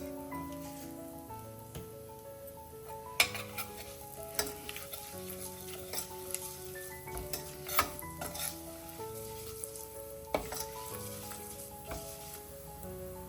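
Mustard seeds and cumin spluttering in hot oil while cooking ivy gourd onion masala, a continuous sizzle broken by scattered sharp pops and crackles, close and moderately loud with no talk.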